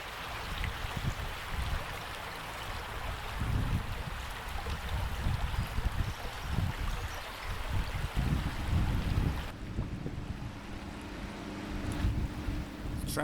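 Crimple Beck, a shallow Yorkshire stream, rushing over riffles, a continuous broadband wash of flowing water with low rumbling gusts, close and steady, with no talk.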